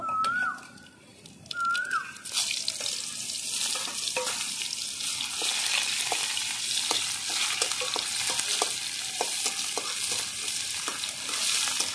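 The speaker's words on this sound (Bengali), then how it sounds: "পেঁয়াজটাকে প্রথমে লাল করে ভালো করে ভেজে নেব।" Chopped onion fries in hot oil with nigella seeds, making a loud, continuous sizzle with frequent stirring clinks and scrapes. A few bird calls sound faintly at the start, before the frying surges.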